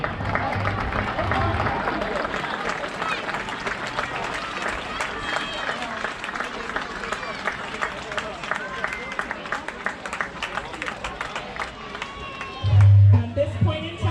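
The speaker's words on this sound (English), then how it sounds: "Big round of applause for all our teams today" A crowd at a Little League opening day applauds the teams, with sustained clapping and cheering mixed with crowd chatter, plus a brief loud thump near the end.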